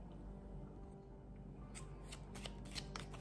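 Tarot cards are shuffled by hand for a reading, quiet at first, then a run of crisp riffling flicks and snaps in the last second and a half, close and alone, with no talking.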